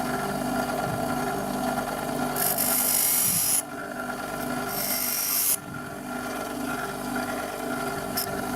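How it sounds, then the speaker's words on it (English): Steady, harsh grinding and rasping from a sharpening tool dressing a drill's cutting edges runs throughout, with brief brighter whining bursts as the edge meets the abrasive. "After cutting the jumper I once again sharpen the cutting edges."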